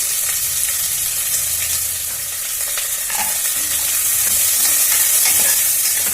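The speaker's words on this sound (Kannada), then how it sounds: "ಈಗ ಈರುಳ್ಳಿ ಸ್ವಲ್ಪ ಹುರಿದಾಗಿದೆ" Onions with black pepper powder sizzle in a pan in a steady, loud, bright hiss for a pongal dish, with faint stirring scrapes underneath and no voices.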